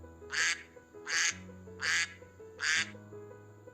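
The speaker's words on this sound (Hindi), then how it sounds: "बतख का आवाज़ सुनते हैं।" A duck quacks four times, loud and close, in an even rhythm, with a low steady hum underneath.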